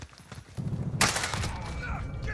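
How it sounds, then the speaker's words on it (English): Bursts of gunfire in a Modern Warfare shooter game crack out, starting with muffled rapid shots and then a loud sharp volley that rattles on in quick succession. "Getting shot at!"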